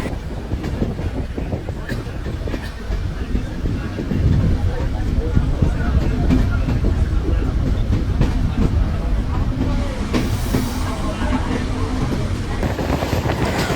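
A passenger train runs along the tracks near the Padma Bridge in Bangladesh, heard from onboard as a loud, continuous rumbling roar with clattering wheels and wind noise, growing heavier as it picks up speed.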